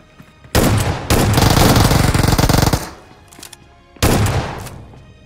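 Shotgun fire in BGMI gameplay: a loud blast, then a long rapid burst of shots lasting about two seconds, then a short pause and another blast with a fading echo.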